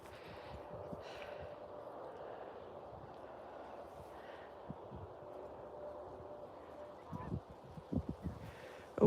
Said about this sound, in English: Oh, I hear geese.